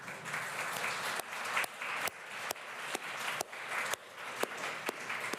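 Steady, dense applause from a conference audience at the Know Your Status Conference, clapping continuously as an honoree walks up, full and close, with a few sharper claps standing out.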